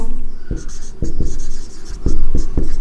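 Chalk or marker strokes on a classroom board during a maths lecture, a run of short scratchy taps and strokes in irregular bursts, close and fairly loud with no talking.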